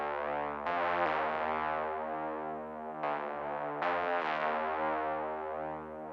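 A rich, brassy synthesized horn plays sustained chords with sharp attacks, swelling and sliding in pitch, loud and alone with no voices.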